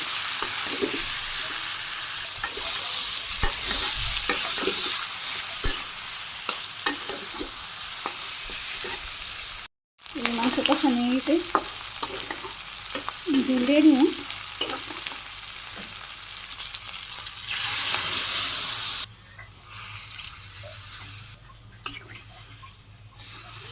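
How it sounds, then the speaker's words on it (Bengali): Chicken being sautéed with reddened onions in a pan, a steady close sizzle with scattered stirring clacks and wet squelches that cuts out briefly, then continues more quietly with some faint tonal noises before fading near the end. "মাংস দিয়ে দিই মাংস আমি কষিয়ে নিই সুন্দর করে"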